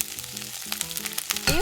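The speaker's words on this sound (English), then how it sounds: "Heat some oil in a frying pan over high heat. Once the oil is hot, toss in the chives and a carrot." Chives and a carrot hit hot oil in a frying pan over high heat, giving a short, close sizzle that swells at the end, with background music playing throughout.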